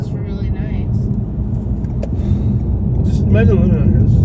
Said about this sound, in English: This is like so much traffic.